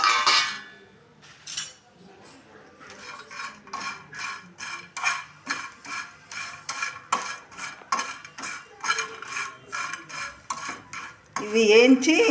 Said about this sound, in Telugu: మళ్ళా ఇప్పుడు వేయించుకుంటున్నా.